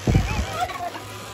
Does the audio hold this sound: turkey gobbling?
yes